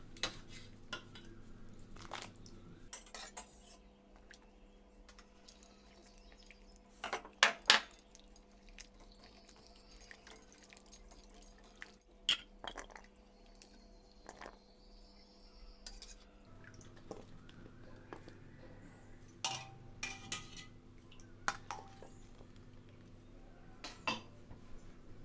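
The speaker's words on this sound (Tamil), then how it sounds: "அந்த ஊறின பூசணிக்காயை இந்த தண்ணியில் ஒரு 2 தடவை வாஷ் பண்ணி எடுத்துக்கலாம்." Soaked ash gourd pieces are washed in a pot of water, giving soft sloshes, drips and a few sharp clinks of the pot at irregular moments over a steady low hum, with no talk.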